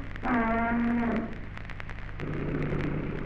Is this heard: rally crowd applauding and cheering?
no